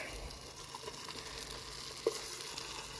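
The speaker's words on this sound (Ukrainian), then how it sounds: "Тут жариться ковбаска на печі." Steady sizzling of sausage frying on a camping stove surface, a constant crackling hiss with one small pop.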